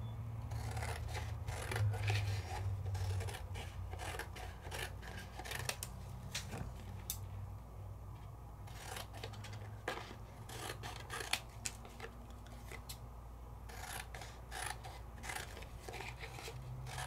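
Scissors snip repeatedly through paper cardstock in a card-making craft project, a close series of crisp cutting strokes and rustles at an irregular pace, fairly quiet, with no one talking.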